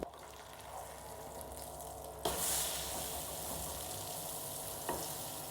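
A chicken and vegetable omelette fries in a pan after being flipped, with a steady close sizzle that surges louder partway through. A brief clatter comes near the end, and no one speaks.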